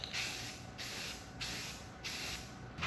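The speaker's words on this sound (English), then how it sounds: "before we spray our clear, a little bit of primer on the edges where we did our glazing putty." Aerosol primer sprayed onto the glazed edges of a Corvette roof panel in four short hissing bursts with brief gaps, close and fairly quiet, no talking.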